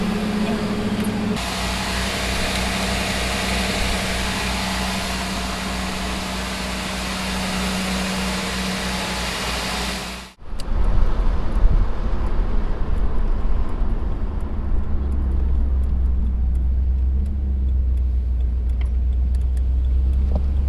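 A 1992 Chevrolet Camaro engine runs steadily at first, then after a brief drop the car drives off with a louder, deeper rumble of engine and road noise that continues to the end.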